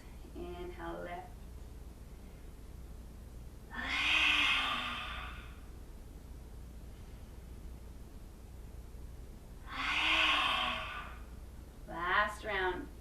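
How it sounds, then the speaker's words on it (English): Forceful yoga exhalations of Kali breath, two loud breathy bursts a few seconds apart, each with a rough rushing hiss, with voiced sighs and breath sounds at the start and end over a steady background hiss. "And now we'll do 3 rounds of Kali breath with the arms"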